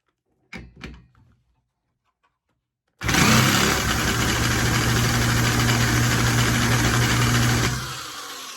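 A small two-stroke engine gives a couple of sharp mechanical clunks, falls silent, then fires up and runs loudly and steadily at close range for several seconds before tapering off at the end.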